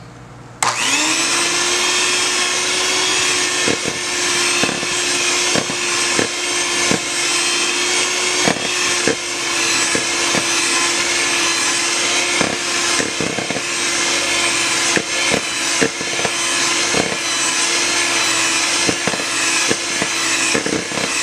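An electric hand mixer whirs steadily as it beats banana nut bread batter with the dry ingredients just added, a loud continuous motor drone with faint periodic knocks of the beaters against the bowl and no talking.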